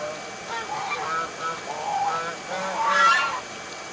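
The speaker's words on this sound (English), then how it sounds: "There's the geese, folks." Geese honk several times at moderate distance, with a louder burst of calls near the end over soft background noise.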